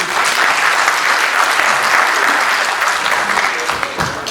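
Conference audience at an institute gathering bursting into sustained applause, a thick, loud wash of many hands clapping that carries on for several seconds before thinning out at the end.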